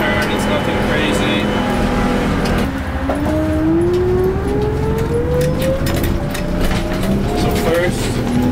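A 1959 GM 4104 bus engine pulls in first gear, loud and close, its droning pitch climbing steadily as it accelerates while the driver talks over it.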